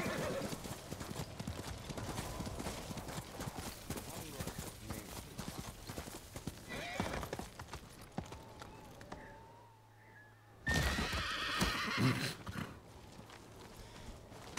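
Ghost of Tsushima video game: an armored horse's hooves clip-clop steadily along with neighing, a brief quiet gap, then a louder burst of hoof and snorting noise; a voice talks over parts of it.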